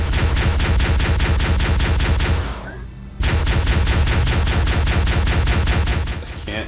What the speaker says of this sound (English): Get in the turret. Defend us with the turret!